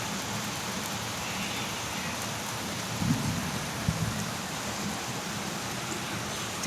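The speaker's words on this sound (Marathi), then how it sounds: "आता गडगड गडगड करत होता, आता पाऊस यायला लागला." Steady, hissing rain drums on a tin roof as a brief storm begins, with two low thunder rumbles rolling in at a distance partway through; no one speaks.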